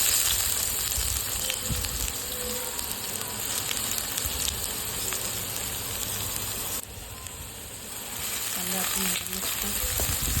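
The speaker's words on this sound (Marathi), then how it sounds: "आता आपण याच्यामध्ये कटिंग केलेला कांदा टाकून घेऊया" Chopped onion frying in two spoons of oil beside chopped tomato and green chili for masala Maggi, giving a steady close sizzle with a few faint utensil clinks and no voices.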